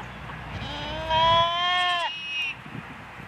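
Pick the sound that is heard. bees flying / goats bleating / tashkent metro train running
goats bleating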